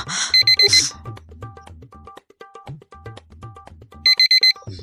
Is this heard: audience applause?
no